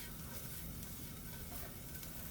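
An egg fries under a lid in a covered pan, giving off a faint, steady, dense sizzle with no pauses and no voices.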